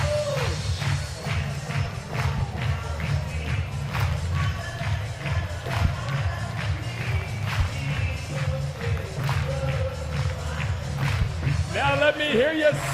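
A stadium crowd at a Savannah Bananas versus Texas Tailgaters Banana Ball game claps along in a steady rhythm, the beat running under continuous crowd noise and voices.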